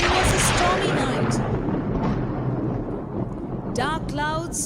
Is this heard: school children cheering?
no